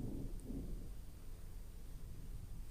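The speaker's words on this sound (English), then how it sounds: "Can y'all hear the thunder rolling outside?" Thunder rolls outside a house during a summer storm, a faint, low, continuous rumble heard indoors from a studio, with no one talking.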